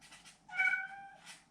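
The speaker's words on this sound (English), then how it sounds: "Meow." A pet cat gives a single short, fairly quiet meow with a clear tonal middle, heard alone in a quiet room.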